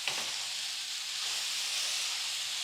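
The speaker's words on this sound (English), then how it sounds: "So we'll just kind of steam the veggies for a few minutes." Steady, close hiss and sizzle of vegetables steaming in a hot pan, a continuous broadband steam sound with no talking.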